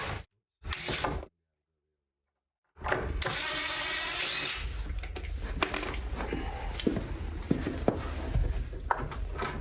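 A power drill with a Phillips bit backs drywall screws out of a bathtub front: short bursts separated by silence, then a sustained whirring run with small clicks and rattles, close and fairly loud.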